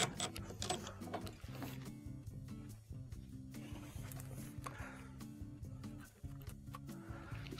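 Phillips screws are driven back into a plastic motor housing, giving a steady mechanical clicking and ratcheting with a rhythmic low whir that runs throughout, close and moderately quiet.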